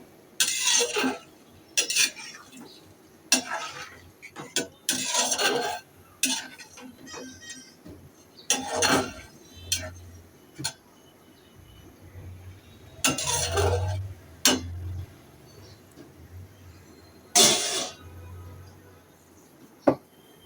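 A metal spatula stirs loitta fish in a cooking pan, producing repeated sharp scraping clinks in short bursts separated by pauses, close and clear over a low background hum.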